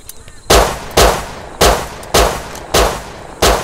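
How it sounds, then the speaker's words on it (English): Gunfire in the video game Rust, six loud, close shots spaced roughly half a second to a second apart, each a sharp crack with a short ringing tail, over a faint background. "Someone shooting here."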